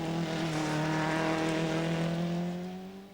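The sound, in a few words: Mitsubishi rally car driving through a forest stage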